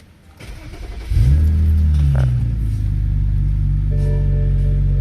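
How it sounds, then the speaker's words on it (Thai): A BMW F10 engine turns over and settles into a loud, steady low rumble, with no talking. "อันนี้เครื่องยนต์โหลดเดินนิ่งปกตินะครับ ไม่มีการเดินหอบนะ"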